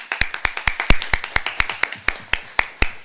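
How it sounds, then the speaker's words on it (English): Sparse, uneven clapping from a small audience at a law panel, individual sharp claps close by, irregularly spaced, with no sustained ovation. "not much of a hearty round of applause for yourselves"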